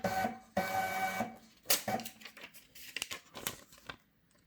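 A Uni-7 scale in cash register mode prints a receipt with a buzzy mechanical whir, then feeds and tears the paper with crinkly, clicking sounds that fade out.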